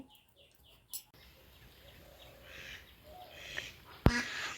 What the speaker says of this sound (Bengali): ওদের হাঁসগুলো তখন প্যাক প্যাক করছে